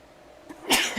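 A single short, close sneeze bursts out near the end after a faint quiet stretch, sharp and breathy.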